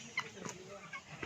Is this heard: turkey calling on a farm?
yes